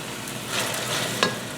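Pureed onion with ginger paste fries in a pan over medium-high heat, giving a dense, steady sizzle with a brief sharper crackle near the end.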